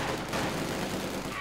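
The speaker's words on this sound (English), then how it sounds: "MD4 there firing away most merrily." Dense, continuous gunfire from the video game Company of Heroes 2, a sustained rattling fusillade of rapid shots layered into a thick wall of battle noise with no pause.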